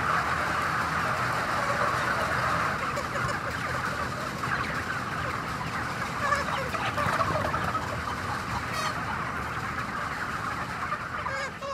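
Broiler chickens in large poultry barns holding thousands of birds produce a dense, continuous clucking murmur from a big flock, with scattered louder calls rising above the steady crowd noise.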